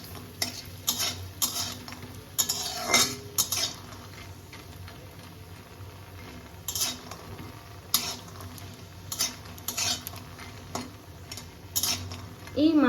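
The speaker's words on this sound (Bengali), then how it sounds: "এবার এর মধ্যে আমি বড়িটা দিয়ে দেব, দিয়ে হালকা লাল লাল করে ভেজে নামাবো" Lentil dumplings (bori) frying in hot oil for a fish curry, a low steady sizzle with intermittent spoon-against-pan scrapes and clinks, close by with no talk.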